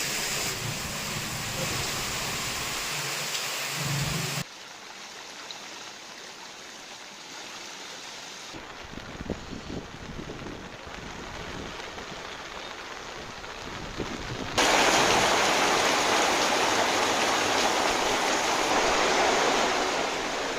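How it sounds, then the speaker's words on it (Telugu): Heavy, continuous rain in Telangana's Khammam region makes a dense, steady roaring hiss that shifts in loudness across several cuts, with the loudest, fullest downpour in the final stretch and no speech. "ఎడతెరిపి లేకుండా కురుస్తుంది వర్షం"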